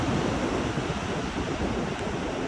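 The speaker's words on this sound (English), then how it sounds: "So it's nice and sunny, a little breezy here today on the beach." Breezy sunny beach with surf, a dense continuous roar of waves mixed with wind buffeting the microphone, steady and loud with no talking.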